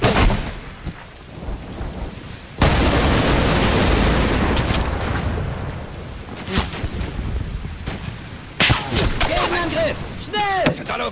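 Gunfire and explosions in the Combat Mission: Battle for Normandy war game, hedgerow fighting: a sustained loud roar of firing from about 2.5 s, then sharp cracks and bursts, with a voice calling out near the end.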